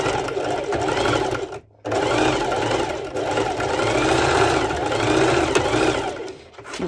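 A sewing machine running fast stitches while making a sporty twisted top, a loud continuous mechanical whirr broken by one brief pause for reversing, then continuing steadily with a slight change in pitch.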